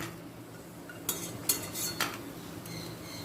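Metal spoon scrapes and clinks against a pot as bori curry with mustard paste is transferred into another vessel, a few sharp clatters over a quiet background.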